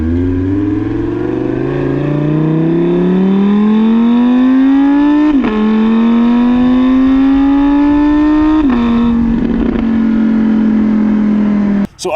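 A 2018 Audi R8 RWS Spyder's naturally aspirated 5.2-litre V10 climbs loudly through the revs, its exhaust rising in pitch across two quick gear changes and then holding a steady strong drone before cutting off at the end.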